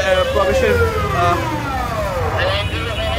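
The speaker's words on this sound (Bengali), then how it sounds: "অ্যাম্বুলেন্সগুলো এক এক করে কিন্তু এখানে ঢুকছেন।" An ambulance siren wails loudly nearby, its pitch sweeping up and down, over traffic rumble and some crowd noise, at the scene of an air force fighter jet crash in Uttara, Dhaka.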